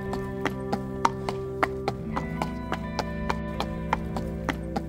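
A horse moves during training, its hooves landing in a regular clip-clop rhythm of sharp, evenly spaced strikes. A steady background tone runs underneath.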